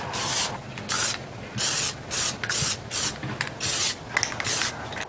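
Plasti Dip aerosol sprayed onto the wheels and tires of a Lotus Elise being coated vintage gold: about seven loud, close hissing bursts, each lasting roughly half a second, separated by short pauses.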